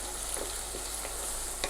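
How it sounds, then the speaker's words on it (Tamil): Onions and garlic sizzle steadily in hot oil, a constant frying hiss with a few soft stirring scrapes and clicks, and no voices. "1 நிமிஷம் நல்லா எண்ணெயில் வதக்கிக்கலாங்க."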